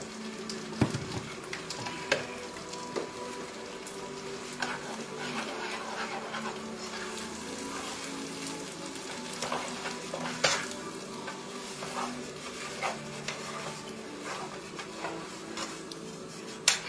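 About a tablespoon of butter melting in a pan turned down to low while shrimp and noodles are made, a steady soft sizzle with scattered clicks and utensil taps, moderately close, no talking.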